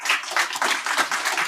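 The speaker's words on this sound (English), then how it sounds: "Let's give him a round of applause." Audience at an animal science conference applauds after a presentation, a dense patter of many hands clapping steadily and fairly close, with no voices over it.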